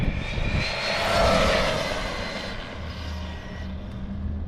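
An Arrma Kraton EXB 6S RC car's electric motor whines loudly near full throttle as it speeds past, a rising then fading high-pitched buzz that swells in the middle and trails off.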